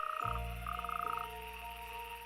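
Loud, close frog croaking in rapid pulsing trills at a breeding pond over a steady chorus of other frogs calling in the background.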